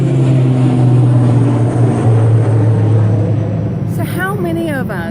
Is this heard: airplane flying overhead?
yes